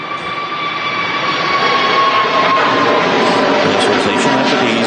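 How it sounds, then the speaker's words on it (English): An Atlas Air Boeing 747 passes overhead at Manchester Airport in the evening, a loud, steady broadband jet roar with a sustained whine, growing slightly over several seconds without any talk. "We've also got an Atlas Air 747 overhead"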